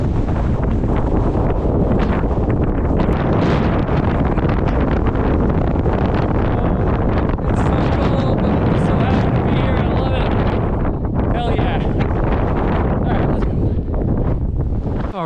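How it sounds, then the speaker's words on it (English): Strong wind blowing across a mountain summit in the White Mountains, roaring steadily as heavy buffeting on the microphone throughout, loud and close, with a voice speaking faintly beneath it. "Ready for the wind to blow in again?"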